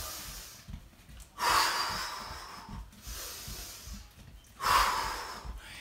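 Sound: deep breathing during kickboxing workout

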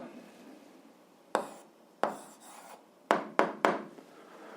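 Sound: writing down the answer

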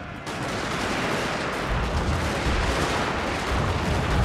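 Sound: gunfire volleys in video game Fall of the Samurai

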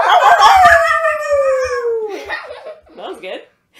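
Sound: voice imitating a dog

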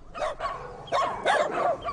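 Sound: dogs barking

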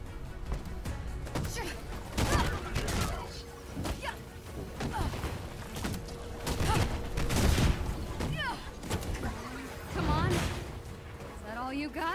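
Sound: enemy grenades exploding in Marvel's Avengers video game

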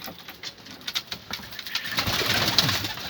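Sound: pigeons cooing

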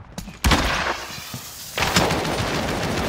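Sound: gunfire in Call of Duty: Modern Warfare video game

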